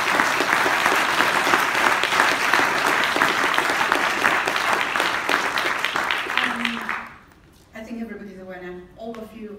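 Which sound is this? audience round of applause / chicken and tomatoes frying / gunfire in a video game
audience round of applause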